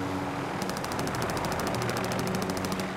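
Rapid automatic gunfire from the video game Call of Duty Warzone, a steady fast burst of evenly spaced shots starting about half a second in and running to the end, loud and close over a busy game background.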